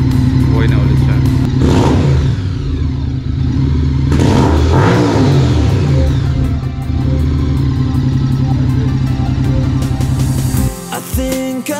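A motorcycle engine running again after months idle, following a battery failure, loud and close with a steady low idle rumble, several throttle revs and clattering mechanical noise before it cuts off near the end.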